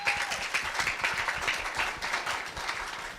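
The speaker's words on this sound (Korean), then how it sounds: "첫 번째 발표자 문채원 학생을 큰 박수로 맞이해 주시기 바랍니다." An audience at a middle school speech festival claps to welcome the first student presenter, with distinct, fairly soft claps in a lively, uneven rhythm from a modest crowd.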